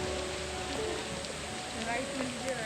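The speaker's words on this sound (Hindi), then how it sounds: "और अब बारिश थोड़ी थमती हुई।" Steady rain pattering on surfaces near a temple garden, a dense even hiss with scattered drops throughout and faint background sounds underneath.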